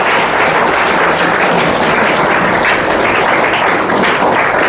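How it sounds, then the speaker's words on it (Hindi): Loud, dense applause from students for a teacher at a 12th-class school farewell ceremony, with steady clapping holding throughout and no talking over it. "तो सर के लिए एक बार जोरदार ताली का स्वागत करें।"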